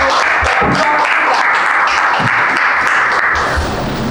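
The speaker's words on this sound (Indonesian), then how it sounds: "Kita beri aplaus untuk" Loud, dense applause fills the room after a group presentation in a classroom performance test, with many hands clapping continuously and close by before fading slightly at the end.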